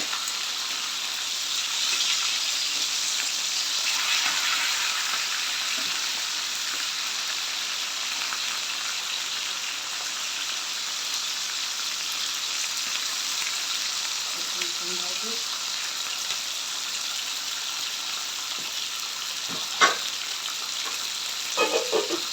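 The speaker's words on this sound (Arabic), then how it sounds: "وهعمل واحمرها من ناحيتين." Breaded chicken cutlets fry in hot oil in a pan, a steady close crackling sizzle running throughout with a few brief clinks and knocks near the end.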